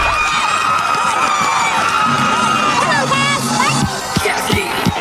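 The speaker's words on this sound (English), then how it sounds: "let's hear for Cassidy Dunlap." A crowd at a youth cheerleading competition cheers and whoops loudly and continuously, with children's shrieks and shouts layered over a dense roar of applause from close by.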